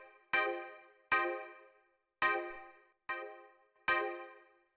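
Five bright deep house synth stab chords, crunched and fattened by a drum buss, each striking sharply then decaying, spaced in an uneven rhythm and heard alone.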